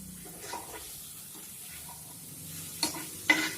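Fried mourala fish mixed into a spice masala in a pan, a soft low sizzle with gentle stirring and two sharper scrapes near the end.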